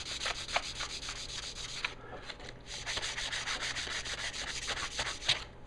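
A 4-inch jointer blade is sharpened by hand on a stone, giving a quick run of close, rhythmic scraping strokes at a steady pace, with no voices.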